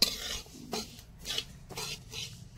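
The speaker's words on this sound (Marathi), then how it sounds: "आणि तर तीळ भाजायचं काम चालू आहे" Sesame seeds roasting in a pan over a wood-fired clay stove: nearby, raspy scraping sweeps repeating roughly every half second to second, as the seeds are stirred against the metal, with no voices.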